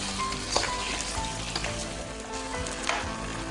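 Potatoes frying together with other ingredients in a pan for mercimekli sulu köfte, a steady crackling sizzle running throughout with a few brief louder pops, no voices.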